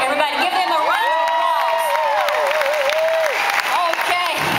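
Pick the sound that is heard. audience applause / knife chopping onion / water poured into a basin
audience applause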